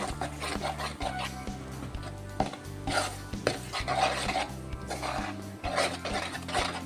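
A sago sweet mixture stirred in a metal pan until it thickens, with a spoon scraping and clinking against the pan in a steady, repeated rhythm, up close and loud, with faint sizzling underneath.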